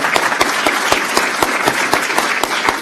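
Audience applause at the 2016 Milwaukee mayoral debate, a steady, loud wash of many hands clapping throughout, without talk.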